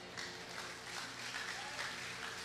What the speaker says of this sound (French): Ah, est-ce qu'on peut applaudir la parole?